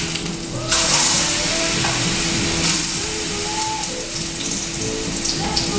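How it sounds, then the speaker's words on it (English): Plantains fry in a hot pan with a steady, loud broadband sizzle and crackle throughout, swelling slightly as pieces go in, with faint clinks of utensils and no talking. "So now I am going to start frying plantains."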